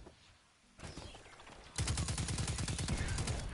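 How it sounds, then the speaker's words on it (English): Rapid automatic rifle fire in a video game, a dense sustained burst of loud, closely spaced shots filling the second half after quieter bursts of distant gunfire. "Shooting it far away with this auto rifle."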